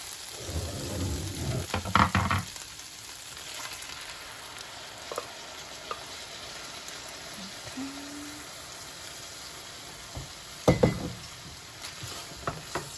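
Food sizzles softly in a pan after grated cheese goes in, with a few scattered stirring scrapes and utensil knocks near the start and toward the end, close but fairly quiet, with no voices.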